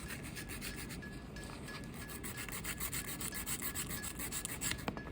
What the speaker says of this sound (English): take my 100, 180 file, and on the rough side, I'm just going to kind of reshape it a little bit